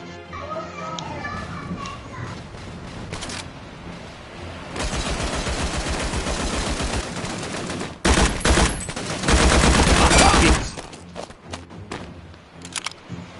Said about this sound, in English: The Tommy gun looks cool, but it takes a lot of shots to kill somebody with it.